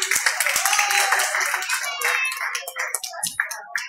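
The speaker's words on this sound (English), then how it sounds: "round of applause" Audience at a boxing event applauding ringside, loud close clapping that thins into scattered claps, with voices mixed in.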